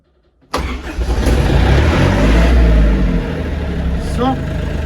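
A Japanese Iseki TA-series mini tractor diesel engine cranks and catches after a moment of silence, then runs loud and steady close by, with faint voices partly audible over the engine.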